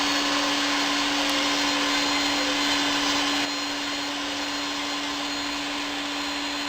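Festool Domino joiner running with a dust extraction vacuum attached, a steady loud motor whine and broadband rush holding constant, dropping slightly in level partway through, with no talk.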